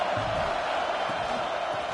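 Football stadium crowd roaring steadily during a big third-down defensive stand, a dense, continuous wall of cheering and noise with no breaks.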